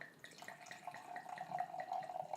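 Red wine poured into a glass at a blind tasting, a faint, quiet trickle of liquid with light dripping and glassy resonance over about two seconds.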